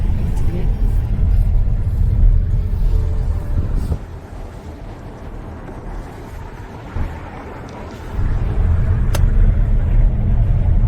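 A car drives along a road in Ireland, its low engine and road rumble steady and close, dropping quieter for a few seconds midway before swelling again, with some wind buffeting.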